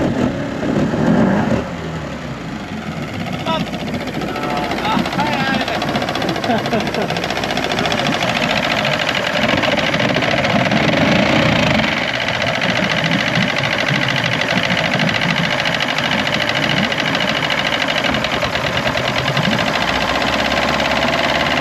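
Outboard motor on a Haines 170 Tri-Hunter boat idling out of gear, a steady rumbling drone with slight knocking that runs throughout, with voices talking over it at times.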